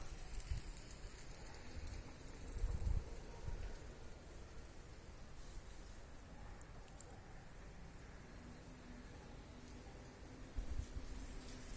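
Steady rain falls around a pigeon loft on a wet, dull day, a constant soft hiss of drops on surfaces with a few brief louder thumps and faint bird sounds in the background.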